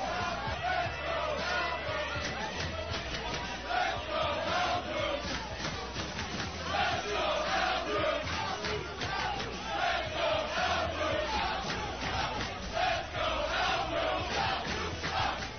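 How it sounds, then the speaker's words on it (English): Fight night crowd at a boxing ring before the main event, a dense roaring mass of voices shouting and chanting in uneven waves, loud and continuous throughout. "The crowd seems split."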